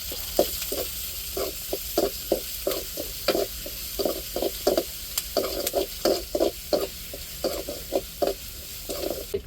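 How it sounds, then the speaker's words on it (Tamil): Garlic hits a hot pan in a home kitchen and is stirred briskly, giving repeated scraping, sizzling bursts in an uneven rhythm over a soft frying hiss, close and fairly quiet. "இப்போ பூண்டு சேர்த்துக்கிடுவோம்."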